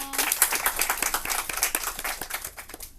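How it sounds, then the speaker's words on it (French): A classroom audience at a French word game claps in a short, dense burst of applause that stays lively for a few seconds before thinning out at the end. "On applaudit."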